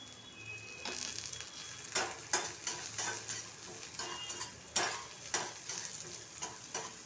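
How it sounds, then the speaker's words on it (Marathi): Onion fries in a pan with a little salt, hissing softly while a spoon stirs it in repeated scraping strokes, close and fairly quiet. "कांदा चांगला ब्राऊन कलर येईपर्यंत भाजून घ्यायचा."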